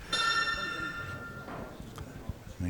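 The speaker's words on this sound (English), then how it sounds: "You heard that little bell in the background." A small shot clock bell during a professional pool match rings once as a bright ringing tone that lingers about a second, followed by faint hall noise and a few soft knocks.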